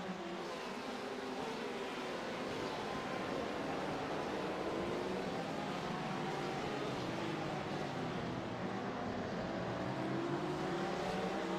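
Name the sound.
race car engine of a blue Ferrari in iRacing video game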